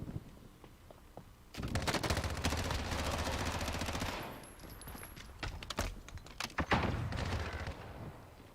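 Video game shootout with rapid automatic gunfire and grenade blasts, a dense sustained burst of shots followed by scattered individual pops and bangs, fairly quiet overall.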